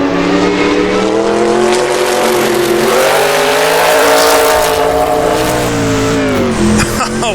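A 1960s Le Mans sports race car in Assetto Corsa holds a loud, steady engine note that rises and falls gently as the rear slides through a corner, with faint tyre scrub beneath, continuous and close throughout.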